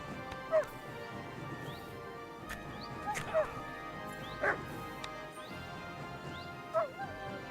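A dog barks in the medieval video game Kingdom Come: Deliverance 2, giving about four short, sharp barks spaced a few seconds apart over steady game ambience, with a player talking.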